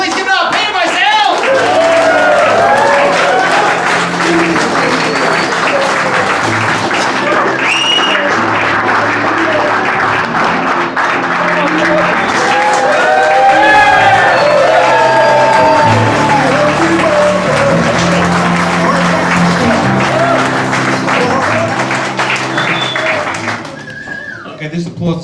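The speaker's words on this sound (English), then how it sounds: "Okay, this applause is coming out of my time." Loud, sustained audience applause and shouts at a comedy roast, steady dense clapping filling the room for over twenty seconds while voices call out over it, tapering off only at the very end.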